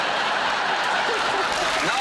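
Studio audience applause on a comedy panel show, a dense steady wash of clapping filling the whole moment with a little laughter mixed in.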